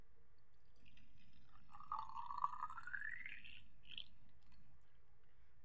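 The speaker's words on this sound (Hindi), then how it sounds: "अब इसमें हम डालेंगे पानी।" Water is poured into a cleaned-out glass light bulb for a homemade smartphone projector, a quiet trickle whose pitch climbs steadily over a couple of seconds as it fills, ending in a brief higher splash, with no talk.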